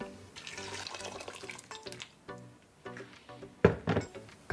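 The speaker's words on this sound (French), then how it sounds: "On va rajouter 2 litres d'eau." About two litres of water are poured into a pot of goulash, a gurgling, splashing flow heard close that fades and then returns with a louder gush and a thunk near the end, with no talking.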